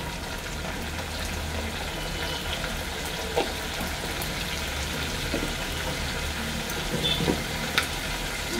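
Potatoes and taro fry in a pan, giving a constant close sizzle with a few light taps and clicks of stirring scattered throughout; nobody talks.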